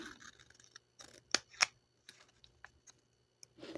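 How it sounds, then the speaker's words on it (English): Scissors snip through paper for scrap-buster stamped tickets, a few sharp close cuts in a quiet room, with light paper handling between snips. "Cut your paper down."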